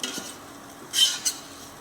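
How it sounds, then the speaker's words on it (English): A spoon scrapes and stirs brown sauce with tomato in a pan, two quick bright scrapes standing out over a low, quiet simmer. "keep stirring so it will not stuck at the bottom"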